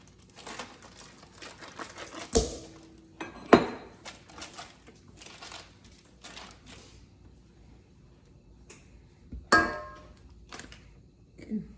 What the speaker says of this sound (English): I'm gonna go ahead and mix up the icing while I'm waiting.